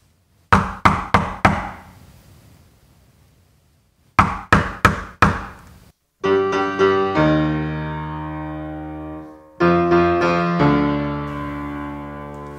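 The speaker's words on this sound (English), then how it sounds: "fate knocking on your door" Beethoven's Fifth Symphony 'fate knocking' motif: two bursts of four sharp knocks, short-long rhythm, each followed by a sustained, swelling orchestral or piano-like chord; close and loud.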